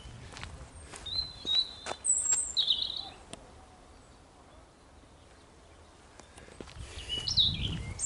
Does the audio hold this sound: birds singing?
yes